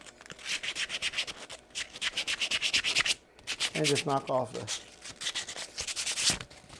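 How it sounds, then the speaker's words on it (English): Lathe soft jaws being sanded by hand with sandpaper give quick, rhythmic, close scratching strokes in steady bursts, with one short pause, while someone speaks briefly partway through. "You just sand them around like that."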